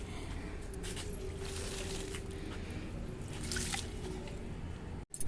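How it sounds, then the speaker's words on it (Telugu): Water mixed with alum being poured a little at a time onto potted plants, a steady soft trickle and drip running throughout at close range with no talk. "ఈ వాటర్ని మొక్కలకి కొంచెం కొంచెంగా అయితే ఇస్తున్నానండి"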